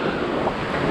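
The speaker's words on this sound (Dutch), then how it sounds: "Check de kracht achter deze golven." Strong ocean waves crashing on a cold, windy shore, a loud continuous rush of surf with wind buffeting the microphone and no clear breaks.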